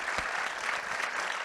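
Audience applause at a forum on the high seas, a steady dense patter of many hands clapping throughout, moderately loud and without talk.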